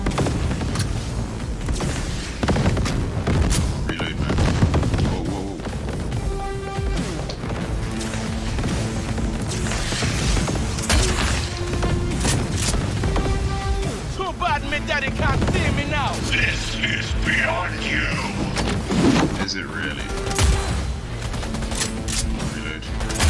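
Gunfire in the video game Cyberpunk 2077, repeated loud shots and bursts mixed with impacts and crashes through a busy combat scene, with someone talking over it.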